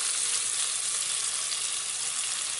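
Meat browning in a pan with garlic, a dense, loud, hissing sizzle that stays even and continuous throughout.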